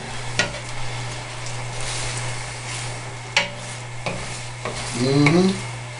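Scrambled eggs fry in a pan with a continuous sizzle, broken by several distinct scrapes and clinks of a utensil stirring against the pan.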